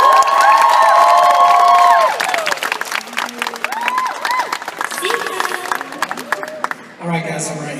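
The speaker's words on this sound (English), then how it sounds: "so let's give them a big round of applause." Concert crowd at a soundcheck party in Providence, loud applause and high-pitched cheering and screams that fade after a couple of seconds into scattered whoops and claps, with voices shouting over it.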